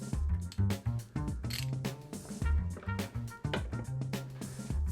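A hand tool snugs the screws on Harley-Davidson motorcycle lower fairing inserts, producing close, repeated ratcheting clicks and short mechanical bursts in an uneven rhythm, with no talking.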